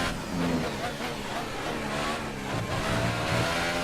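Williams Formula 1 car engine in F1 2018 at the Monaco Grand Prix, a steady high-pitched racing whine holding close and loud for about four seconds with slight pitch shifts, under faint talk.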